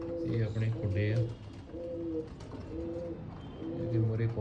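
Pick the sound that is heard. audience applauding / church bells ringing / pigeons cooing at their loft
pigeons cooing at their loft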